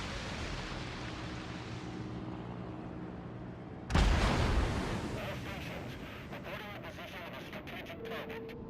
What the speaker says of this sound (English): They're under kind of continual fire here from at least 2 or 3 different ships.